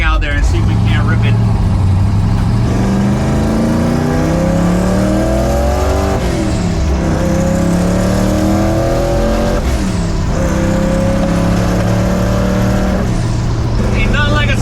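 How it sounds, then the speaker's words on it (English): A twin-turbo LS-powered 1965 Chevrolet C10 stepside pickup revs hard and repeatedly, its engine note rising and falling in loud sweeps with turbo spool whine riding over the roar, heard close up throughout. "Ain't nothing like a spool on a turbo."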